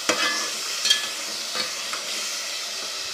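Masala roasting in oil for achari gobhi, a continuous close hiss of frying with a few scraping stirs, no voices.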